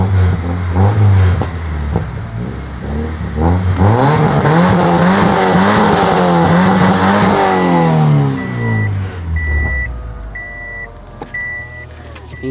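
A car engine revving from inside the cabin, rising and falling in pitch through several throttle blips before settling, loud and close, with a periodic electronic chime beeping toward the end.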